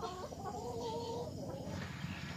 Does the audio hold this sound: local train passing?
no